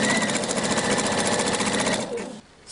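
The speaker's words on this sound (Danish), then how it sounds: "så syr jeg lige et lille stykke her på symaskinen" A sewing machine stitches a neckline on a dolman dress, running in one fast steady continuous whir, close and loud, then stopping abruptly near the end.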